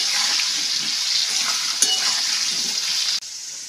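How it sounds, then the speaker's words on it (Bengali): Potato pieces seasoned with a little salt and turmeric sizzle steadily in hot oil, a dense continuous crackle that holds close and even, with one brief louder pop, before it drops off sharply near the end. "আলুগুলো ভেজে নিয়েছি, এখন তুলে নেব।"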